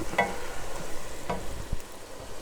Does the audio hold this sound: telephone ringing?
no